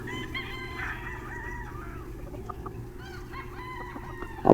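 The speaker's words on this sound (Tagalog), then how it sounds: "Napakaraming manok dito." Chickens cluck steadily throughout while a rooster crows, with several birds overlapping in a busy, continuous farmyard chorus.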